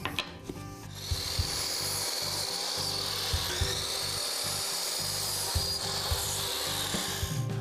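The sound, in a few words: sawing pine legs of a bulletin board frame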